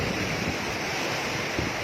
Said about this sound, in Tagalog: Hangit gid kayong dagat oh.